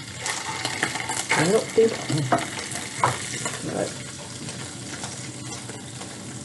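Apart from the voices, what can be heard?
fried hot dog sizzling in a pan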